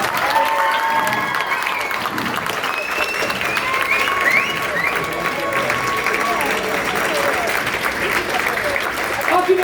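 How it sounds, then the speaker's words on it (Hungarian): Audience applause for the performers at a folk dance-house gathering, steady clapping filling the room throughout with some cheering and voices mixed in. "Nagy tapsot a szereplőinek!"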